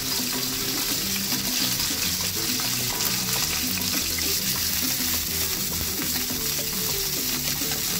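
Lamb sweetbreads confited with garlic and chili bubble and sizzle in hot oil, a loud, dense, continuous frying hiss with faint stirring clatter underneath.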